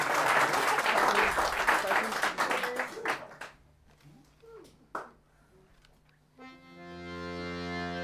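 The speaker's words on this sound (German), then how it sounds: "Applaus nochmal" An audience at a live talk show event gives loud applause that dies away after a few seconds, with a few scattered claps, brief voices and then music starting.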